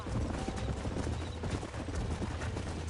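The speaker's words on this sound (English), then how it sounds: "There's the horses!" Horse hooves clip-clopping in the Red Dead Redemption video game during a lasso chase, a steady dense patter of hoofbeats under layered game sound and low rumble.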